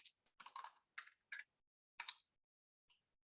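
Computer keyboard keys clatter in short, quiet bursts of quick taps with small gaps between them, then stop. The typing is close and clear in a silent room.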